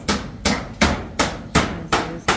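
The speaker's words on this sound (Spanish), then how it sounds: "Ahí están los patojos allá también clavando lo que es la cocina." Hammering nails while building a kitchen: six loud, sharp strikes land at a steady pace of roughly one every four-tenths of a second, each a clean bang that fades quickly, with no talking.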